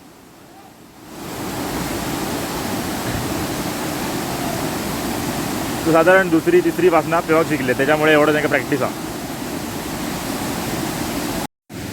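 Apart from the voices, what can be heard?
Ozar waterfall rushing water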